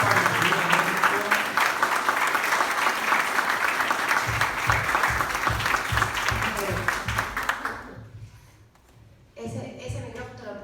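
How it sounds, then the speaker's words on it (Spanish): An audience gives dense, warm applause to welcome a speaker at a talk in Mexico. It holds steady for about eight seconds, then fades out, and a voice follows in the quiet afterward. "para quien pido un caluroso aplauso"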